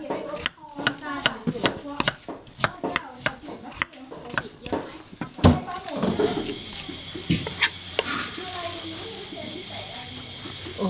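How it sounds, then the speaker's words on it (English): Ginger knife-chopped and julienned on a board at an outdoor prep station in a Shan village, cooking Burmese curry: a brisk run of sharp, close chops, then a wash of water and busy kitchen noise with voices in the background. "serious amounts of ginger are being chopped up julienned"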